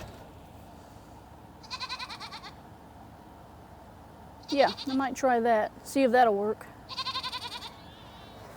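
Goats bleat several times nearby, wavering cries coming in short bursts, while someone talks quietly between them.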